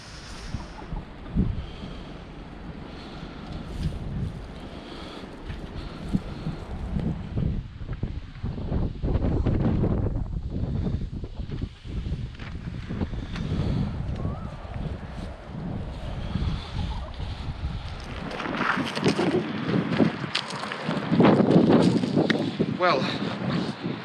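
Gusty coastal wind at Vík, on Iceland's south coast, buffets the microphone throughout, rising and falling in strong bursts, with a person talking over it at times.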